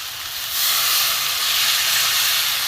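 Water poured into a hot pan of banana flower being cooked down, bursting into a loud, steady steamy hiss that swells after a brief start and holds without letup.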